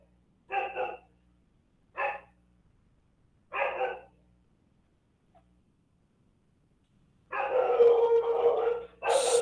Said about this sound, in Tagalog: nag-aingay na naman ang aso ko